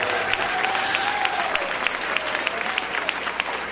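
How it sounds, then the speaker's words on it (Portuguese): A church congregation claps together during a worship service, a dense, steady wash of hands with a faint rhythmic pulse and a sustained tone running through it. "Batam palmas para Jesus, meus irmãos,"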